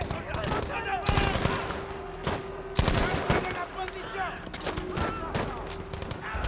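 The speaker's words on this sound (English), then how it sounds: "Let's change our gun, shall we? This gun's got some pop." Rapid bursts of gunfire from a weapon in Battlefield V, played at ultra settings, crackle in repeated volleys with sharp single cracks between, loud and close, while a voice talks over the shooting.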